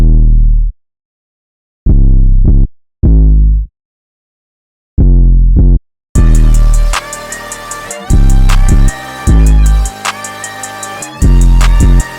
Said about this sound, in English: all we're adding is a low pass filter on parametric EQ2